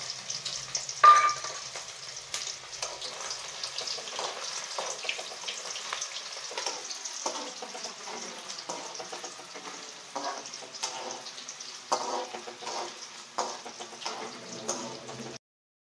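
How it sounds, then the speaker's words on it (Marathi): Crushed garlic fries in oil for chivda with a light, steady sizzle, marked by scattered pops and occasional spoon clicks throughout, fairly close and without speech. "लसूण चांगला लाल तळून घ्यायचा"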